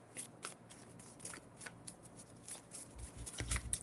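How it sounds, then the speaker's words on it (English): Soft, rapid riffling of playing cards being shuffled, quiet and close, in short repeated bursts with no talking. "let's shuffle more."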